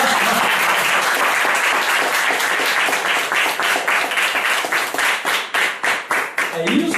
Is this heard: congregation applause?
yes